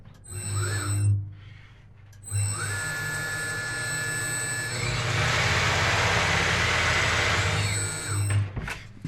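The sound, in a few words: Hunter TCX575 tire machine running at high speed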